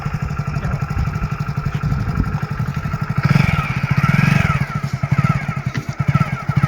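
A motorcycle engine runs steadily nearby with a rapid, throbbing idle-like pulse that swells louder midway through, alone without talk.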